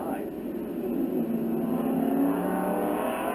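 Several GT1 Corvette race cars circle a road-racing track, their engines a steady, mid-distance roar that swells slightly as cars pass, with a commentator talking over it.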